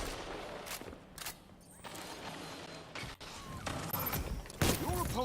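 Rapid bursts of gunfire and sharp shots in the video game Destiny 2, fairly faint and intermittent with mechanical clanks between volleys.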